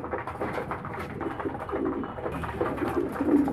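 Several pigeons in a home loft coo close by with a low, continuous, overlapping murmur that swells slightly toward the end.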